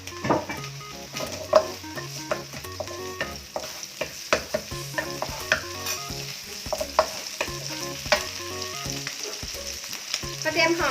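Garlic frying in oil in a pan: a steady close sizzle runs throughout, with repeated stirring clinks and scrapes of a utensil against the pan and no speech.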